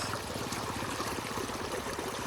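Water drains out of a traditional brackish fish pond at harvest time, a steady, low rushing and trickling flow that stays even and fairly faint throughout, with no voices.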